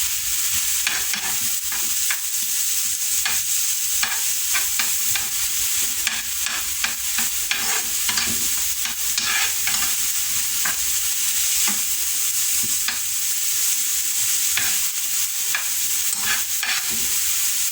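Onions and peppers fry loudly in a pan with a constant bright sizzle, stirred without pause so that frequent scraping strokes and soft knocks of the utensil on the pan keep breaking through.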